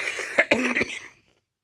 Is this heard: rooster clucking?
no